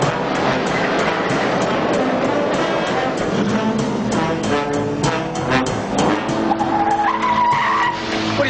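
Tires skid and squeal loudly and continuously during a car chase in a 1981 TV medical drama, with engines roaring throughout and no talking over it.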